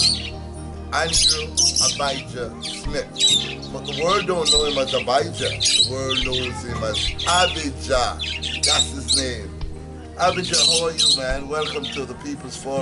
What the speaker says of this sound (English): this is a nice place to relax and listen to the birds chirping in the background